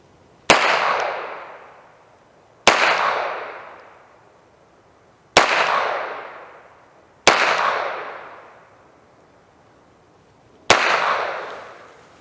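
Five sharp shots from a Beretta 92XI Gara pistol firing 150 grain Syntech rounds, spaced about two seconds apart, each a loud crack trailing into a long echoing decay, with no talking.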